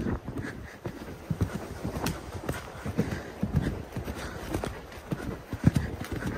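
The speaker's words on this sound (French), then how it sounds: "on avait dit petit galop" Horse hooves cantering outdoors at a canter lesson, a steady rolling clip-clop rhythm close by with light wind noise on the microphone and faint voices.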